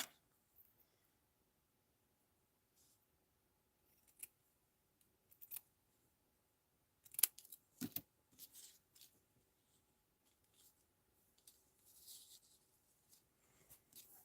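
Quiet, sporadic snips of scissors cutting scrap paper embellishments in half for card making, short crisp bursts scattered with pauses and light paper handling rustles, close and faint.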